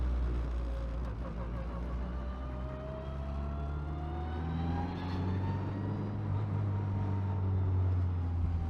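Turbocharged K24 Honda Civic with AWD and a twin-disc clutch accelerating under boost, a steady engine drone with rising harmonics as revs climb, heard from inside the car for the whole stretch.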